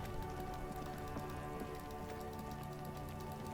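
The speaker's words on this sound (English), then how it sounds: "Stuck in the rain in a traffic jam, man." Rain falling in the video game Disco Elysium, a faint, even patter of drops on surfaces that continues steadily with no voices over it.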